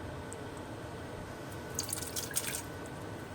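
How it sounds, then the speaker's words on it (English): Canned Rotel tomatoes with their liquid pour into a pot of taco soup, a short, soft splashing and dripping burst against a quiet kitchen background. "I'm going to add my can of rotel tomatoes here"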